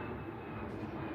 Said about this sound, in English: there's an airplane over us